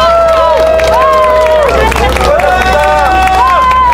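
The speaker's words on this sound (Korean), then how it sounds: "같이 박수로 환호해 주시기 바랍니다." A crowd at an outdoor election-fraud protest rally near Seoul Station cheers and claps, with loud shouting voices and whistling tones over a dense wash of applause, continuous and close throughout.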